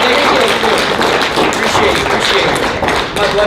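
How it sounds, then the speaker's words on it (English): Audience at an acting workshop breaks into loud, dense applause: a continuous wash of many hands clapping close by, steady throughout with a slight dip near the end. "Give him a round of applause, everybody."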